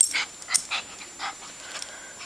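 A dog pants in short, quick breathy bursts while waiting for a treat, close and fairly soft, with faint whimpers and no talking.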